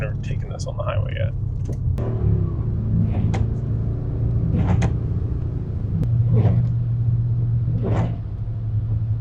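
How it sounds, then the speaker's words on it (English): A 2004 Mercedes S-Class that still runs a bit rough cruises on the highway, giving a steady low road and engine rumble with occasional clicks and knocks from inside the cabin. "I'm just gonna take it on a little bit of a highway run to the next lights to warm it up."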